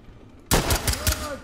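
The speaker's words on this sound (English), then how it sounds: "I heard gunshots." Gunfire in the tactical shooter Ready or Not: after a quiet start, a loud burst of about three or four sharp shots rings out in quick succession, close by and with a lingering echo.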